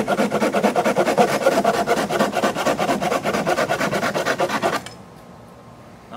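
A pruning saw bought at Walmart rasps back and forth through wood in fast, even strokes for nearly five seconds, loud and close, then stops abruptly, leaving only quiet room noise.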